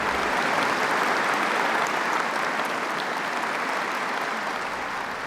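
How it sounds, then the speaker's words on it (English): Thunderous applause from an audience of more than a thousand people rolls on continuously and loudly, holding steady before tapering slightly toward the end. "the sound of their thunderous applause"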